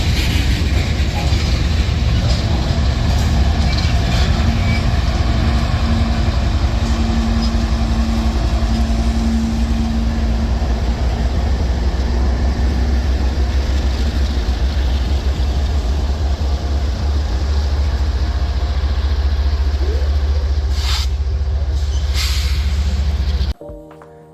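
Iowa Interstate special locomotive unit 516 passing by: a loud, continuous rumble of engine and rolling wheels with faint rail clatter holds steady for over twenty seconds, then cuts off abruptly near the end.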